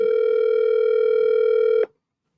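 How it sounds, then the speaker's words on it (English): A single steady telephone tone with harmonics holds for almost two seconds during call forwarding to voicemail, then cuts off abruptly into silence. "Your call has been forwarded to voicemail."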